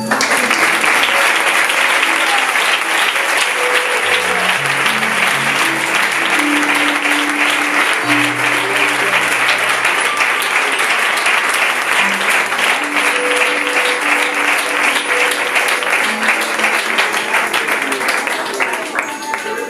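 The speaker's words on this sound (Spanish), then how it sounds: "le invito a que le dé un aplauso" Sustained, loud applause from a church congregation fills the room for about twenty seconds, with musical tones and a faint voice underneath, tapering slightly at the end.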